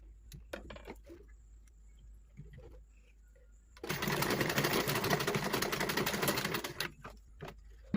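A sewing machine stitches organza and crinoline on a child's ball dress. It runs in a steady, fast whirring burst of about three seconds, with brief taps and handling noises before and after it in a quiet room.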